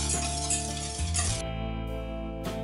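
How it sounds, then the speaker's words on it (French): A whisk beats egg yolks with sugar in a saucepan, giving a continuous close scraping and rattling swish that shifts in texture partway through, with no voices. "je verse mes jaunes dans ma casserole et je vais les fouetter avec mon sucre pour les faire blanchir."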